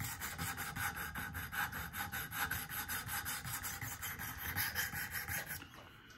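A recurve knife blade, a Duluth Trading knife with edge damage, is stroked against the abrasive stones of a Wicked Edge guided sharpener, giving a steady rhythmic series of raspy scraping passes, close and fairly loud, with no talking.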